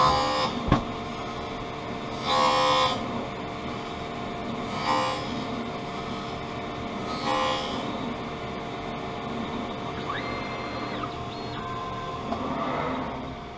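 A lens edging machine cutting anti-glare prescription lenses whirs steadily, with a sharp click near the start, several brief grinding bursts, and a rising electronic tone toward the end.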